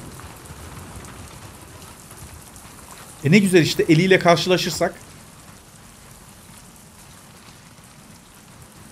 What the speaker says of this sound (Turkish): Yağmurdan kaçalım.